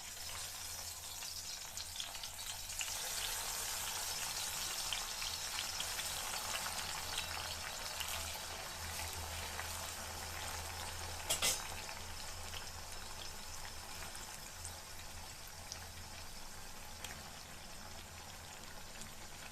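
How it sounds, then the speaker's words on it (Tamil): Brinjal (eggplant) frying in hot oil for a Sri Lankan brinjal moju, a steady close sizzle with spitting crackle running throughout, with one brief louder burst near the middle and no talking. "எண்ணெய் சூடாக இருக்கும். கத்திரிக்காய் சேர்த்துக்கலாம். இப்போ பொரிச்சு எடுத்துருவோம்."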